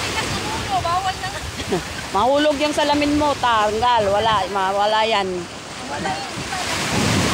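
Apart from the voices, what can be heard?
rough sea waves during a storm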